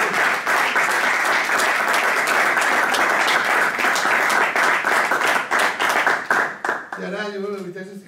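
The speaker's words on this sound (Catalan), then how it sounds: "Jo crec que mereix un aplaudiment i que serveix per acomiadar a Pepe." A hall audience at a band music event in l'Olleria gives sustained, dense clapping that fades into scattered individual claps, and a voice starts speaking at the end.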